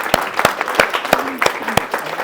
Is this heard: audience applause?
yes